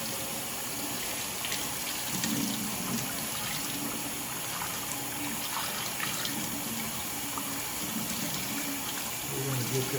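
Tap water runs steadily into small substrate containers being rinsed out, a continuous splashing hiss at moderate level with faint handling clatter, with a bit of quiet speech in the background.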